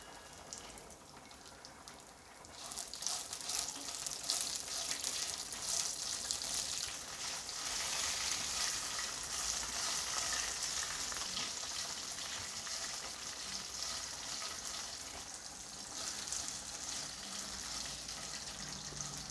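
About ten finely cut green chillies fry in a pan for gongura chutney, giving a steady, moderately loud hiss and crackle of oil that keeps going without a break and with no talking.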